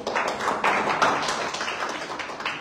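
Audience clapping at a live promotional giveaway event, a steady, dense patter of many hands sustained throughout, fairly close and moderately loud with no talk over it.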